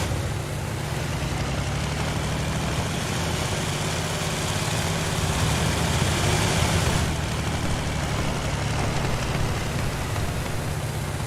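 Steady aircraft engine drone from War Thunder, a continuous broadband roar holding level throughout with no speech over it.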